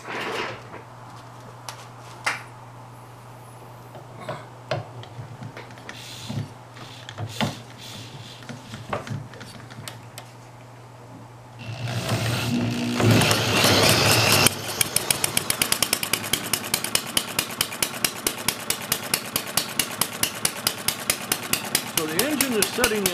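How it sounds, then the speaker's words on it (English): A small engine fitted with a governor and flywheel starts after a quiet stretch of light handling noises, then settles into a steady, loud, rapid running beat close by, its rhythm even and sustained to the end. "I'm going to start the engine and then I'll put a load on the flywheel by putting my thumb on it."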